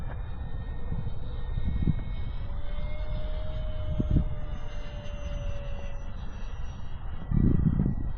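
An E-flite 1.2 m P-51 Mustang RC warbird flies past outdoors, a steady engine whine holding through the clip with a thin tone sweeping across the middle, and low bursts of wind buffeting.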